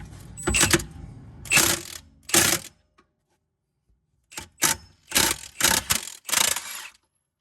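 An impact wrench works on the cam chain area of a blown-up side-by-side (SXS) engine in a shop: two rattling bursts, a pause, then four more hammering bursts, close and loud.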